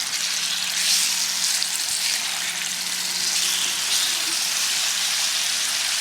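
Tilapia fillets fry in a hot pan with a dense, steady sizzle and crackle throughout, loud and close, with no talking.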